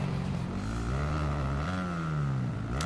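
Honda dirt bike engine in the Monster Energy Supercross 4 video game, a steady buzzing drone that rises and falls slightly in pitch as the throttle shifts, continuous and upfront with no speech.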